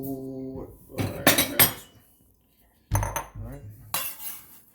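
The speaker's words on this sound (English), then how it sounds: "I'm going to grab a bowl" A bowl being grabbed from among dishes and cutlery, with a cluster of clinking and clattering near the start and another knock and rattle later, mixed with brief talking.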